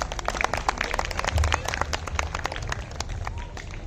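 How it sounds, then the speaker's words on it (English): An audience at a school's annual prize distribution ceremony claps in a dense, steady round of applause that fills a hall, with a faint murmur of voices beneath. "Please, a huge round of applause for our little artists."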